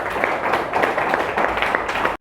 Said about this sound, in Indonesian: tepuk tangan boleh buat dua temannya